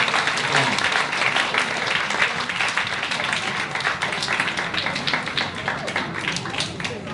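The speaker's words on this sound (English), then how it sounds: "Big round of applause." Sustained, dense audience applause at a library's 20th anniversary celebration with political officials, steady broadband clapping from a sizeable crowd filling the whole stretch at close range.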